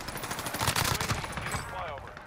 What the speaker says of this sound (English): I heard a lot of shooting